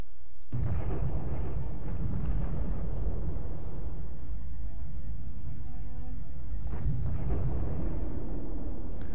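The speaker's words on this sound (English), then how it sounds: "So I have all of those, there they go. I have all of those explosions" Deep, booming explosions with a long rumbling roll between them, loud and heavy, a blast at the start and another near the end.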